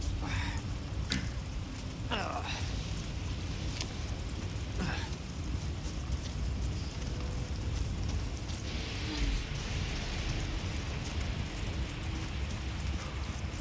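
Steady, dense rainfall in the Resident Evil 4 Remake video game pours on without a break, with a few sharp splashes and faint low rumbles in the background.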